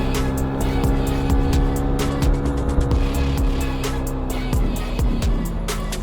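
A Suzuki Satria FU injection motorcycle climbs a mountain road with its engine revving and shifting pitch close by, while steady wind rush runs underneath.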